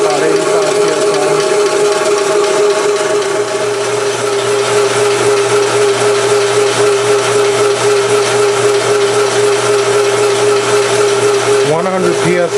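A 4500 psi shoebox air compressor runs continuously and loudly nearby, a steady motor whine with a constant tonal hum, shifting briefly near the end.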